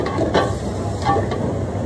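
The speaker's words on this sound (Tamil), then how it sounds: "பாருங்க, நல்லா ஃப்ரை ஆகிடுச்சு." Masala for veg biryani fries in a pan with a steady close sizzle and hiss, broken by a couple of soft stirring scrapes.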